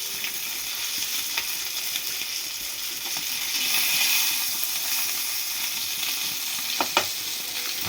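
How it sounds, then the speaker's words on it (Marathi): Fish sizzles on a flat griddle over a wood-fired stove, a steady close hiss of frying with a couple of sharp crackles and a brief swell in intensity midway. "पाच मिनटं एका साईडला फ्राय झाल्यानंतर आपण दुसऱ्या साईडने ती मच्छी फ्राय करून घ्यायची"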